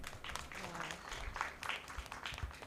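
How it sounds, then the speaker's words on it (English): Audience applause at a women's investment event, a dense patter of many hands clapping that rises and falls steadily across the stretch, with some voices mixed in beneath it. "another round of applause for Sarah"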